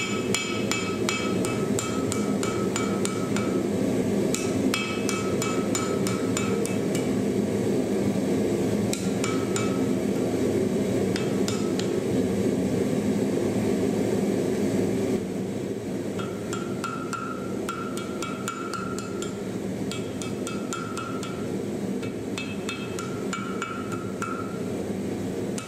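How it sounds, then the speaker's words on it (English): A hammer strikes a forged seax blade to straighten it, sharp metallic ringing blows landing in quick clustered bursts with short pauses between, close and loud over a steady workshop hum. "The last forging step is to straighten the blade."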